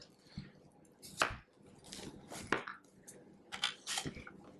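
A cucumber is sliced on a mandoline, giving several quiet, separate slicing strokes with gaps between them and soft handling noise, and no talking.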